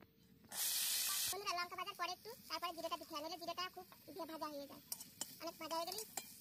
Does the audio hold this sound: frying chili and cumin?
yes